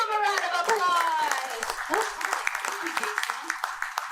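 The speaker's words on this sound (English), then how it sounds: "Give him a round of applause!" Audience applause and cheering in a summit crowd, dense clapping mixed with whoops and voices throughout, fairly close and steady before thinning slightly toward the end.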